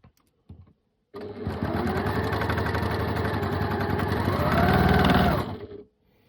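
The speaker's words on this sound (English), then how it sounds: "And then we're going to sew down this line over here." A sewing machine stitches a quilt block seam, starting abruptly and running steadily at close range, then speeding up slightly before stopping, with no voice over it.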